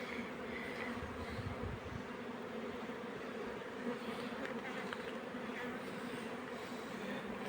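Bees hum around a beehive in a continuous, dense buzzing drone that stays steady and fairly close, with no talking.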